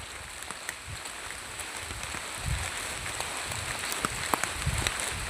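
Steady rain falls on a riverside bridge, a continuous broad hiss with scattered drop impacts and faint low rumbles, no voices.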